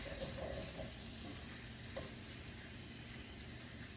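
Onions and peppers for chicken fajitas sizzle steadily in a hot pan, a continuous close crackling hiss with a brief clatter of stirring near the start and no talk.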